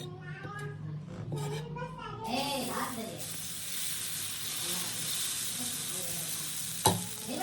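Pesarattu batter hitting a hot pan, a steady broad sizzle and hiss that swells after a brief burst of unworded vocal sound at the start, with one sharp clack near the end.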